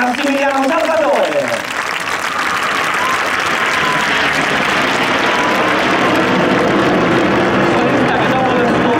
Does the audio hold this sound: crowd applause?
yes